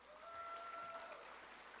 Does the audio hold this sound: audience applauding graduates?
yes